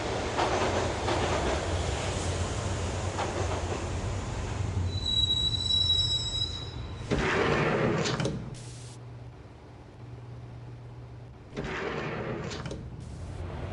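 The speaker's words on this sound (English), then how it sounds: "the train doors had already shut behind me, and I was in for the ride" A train ride in the Max Payne video game: a loud rumbling carriage runs on with a long high wheel squeal, then bursts of rushing noise and clatter, with no voices.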